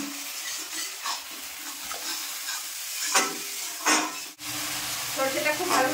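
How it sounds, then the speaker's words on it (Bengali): Mustard paste with green chilli and turmeric sautéed in a pan, giving a soft continuous sizzle with intermittent scraping strokes of a spatula, close by, with one abrupt knock partway through. "সরষেটা খুব ভালোভাবে কষিয়ে নিয়েছি"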